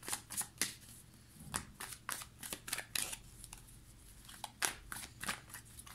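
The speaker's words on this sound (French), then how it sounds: "je vais prendre deux cartes" Tarot cards shuffled and drawn by hand, a quick run of crisp riffling snaps and papery flicks in irregular bursts, close and fairly quiet with no talking.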